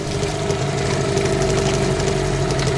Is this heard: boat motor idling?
yes